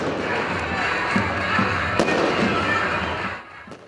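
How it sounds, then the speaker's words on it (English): Fireworks set off in Turkey to celebrate a victory, a dense rumble of bursts with sharp bangs rolling in the distance, fading at the end. "Fireworks were set off in neighbouring Turkey to mark the victory"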